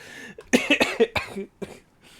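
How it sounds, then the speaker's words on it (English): A person coughs several times in a quick close burst after a tickle in the throat from putting on a voice, then a short pause and one more cough before it fades to quiet. "so I'm gonna cough."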